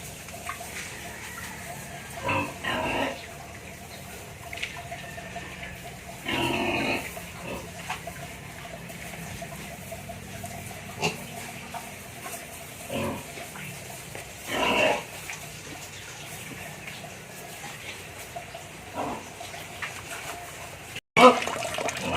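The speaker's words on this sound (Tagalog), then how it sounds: "yung nag-iingay na baboy na yon ay yung mga ina ng mga biik na to" Sows, mothers of piglets, grunt and squeal restlessly in a pig pen, sporadic short bursts over steady background noise; someone talks at times.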